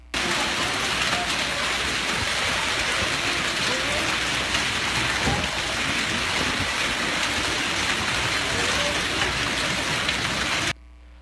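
Heavy rain pouring during an electrical storm, a dense, steady roar of downpour close by that runs unbroken for about eleven seconds before stopping abruptly, with no voices.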